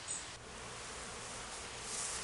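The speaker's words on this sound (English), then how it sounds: "these bees are very aggravated right now" A faint, continuous buzzing of many agitated honey bees, a soft hiss-like drone that swells slightly toward the end, with no talking.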